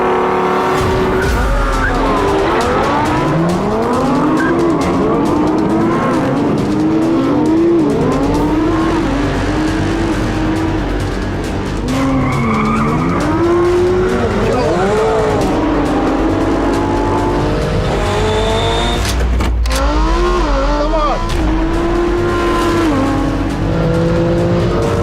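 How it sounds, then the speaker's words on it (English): Supercars accelerate hard in a drag race: loud, continuous engine roars repeatedly rise in pitch through gear changes and overlap one another for the whole stretch, with a sharp burst near the end. "world's greatest drag race"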